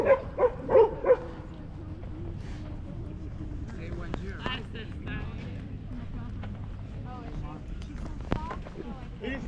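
A poodle and a German shepherd bark in a quick burst of loud barks at the start, then the dog sounds fade into a noisy scene under ongoing conversation.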